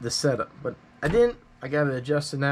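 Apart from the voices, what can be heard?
No everyday noises stand out.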